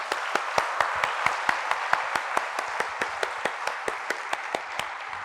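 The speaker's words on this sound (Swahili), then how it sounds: "Hao ni heroines na wana deserve makofi kali" An audience claps in a steady, evenly spaced rhythm, with sharp, crisp claps at about four or five per second, moderately loud and without voices.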